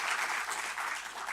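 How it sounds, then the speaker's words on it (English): An audience at a ministerial announcement of national exam results applauds warmly, a dense, steady wash of many hands clapping with no talk over it. "Let's give MTN Foundation a round of applause"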